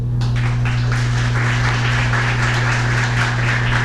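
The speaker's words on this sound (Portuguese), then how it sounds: "com a salva de palmas" Applause in a municipal chamber session, a dense round of clapping from a seated audience, steady and close throughout over a low electrical hum.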